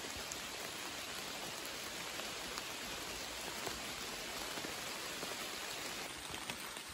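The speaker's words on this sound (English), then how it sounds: "it is really picking up the rain again" Steady rain falls on the Appalachian Trail on a chilly 51-degree day, a dense, continuous hiss of drops that stays even and close throughout with no voices.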